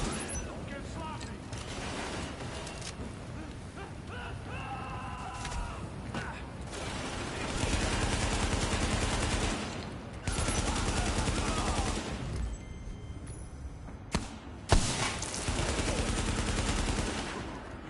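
Video game gunfire in a combat match: dense bursts of automatic fire and shots rattle in waves, with voices talking over the shooting.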